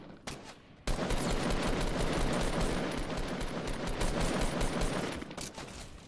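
Sustained automatic gunfire in the Fortnite Battle Royale video game, a dense continuous fusillade of rapid shots running almost the whole clip after a short quieter start, loud and without talk.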